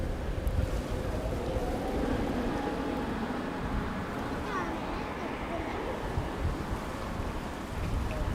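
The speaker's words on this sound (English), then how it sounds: "It's fairly blustery" Blustery wind at Narita Airport roars steadily across the microphone, a continuous low buffeting rumble with no clear breaks.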